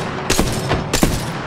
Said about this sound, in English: No, these are warning shots.